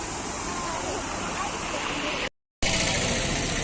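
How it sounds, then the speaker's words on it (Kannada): The Krishna river flows in a steady, broad rushing roar heard close, with a brief dropout midway before the water noise resumes. "ಕೃಷ್ಣಾ ನದಿ ನೋಡಿ."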